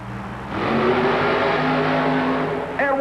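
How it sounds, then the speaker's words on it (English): A monster truck's engine roars loud and close through a timed race run at an arena event, a sustained, rising drone holding steady before a brief dip near the end. "Watrous shuts the engine down a little early"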